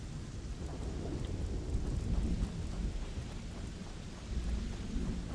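Thunder from a lightning strike over a sandy desert in the video game Starfield: a deep, heavy rumble rolls and swells under a constant wash of rain.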